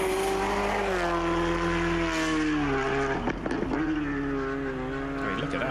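A WRC rally car drives through a fast stage at Rally Finland, its engine note rising and falling in a loud, sustained tone with brief gear-change dips, while a commentator talks over it.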